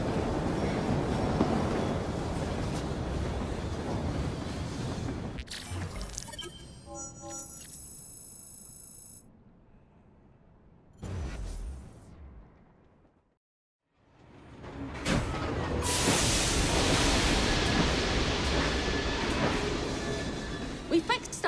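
A steam-era train rumbling along in the video game Assassin's Creed Syndicate, a loud continuous rolling roar that drops out briefly midway before surging back, with voices speaking over parts of it.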